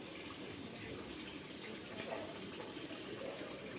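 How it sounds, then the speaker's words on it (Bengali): Water from a bucket poured onto a small plant, a soft steady trickle and splash heard faintly and continuously at low level. "দেখো গাছে কেমন করে কত সুন্দরভাবে জল দেওয়া হচ্ছে, দেখেছো?"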